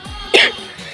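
A single harsh cough from a woman suffering a week-long cold with chest pain and congestion, one short loud burst standing out over a quiet background.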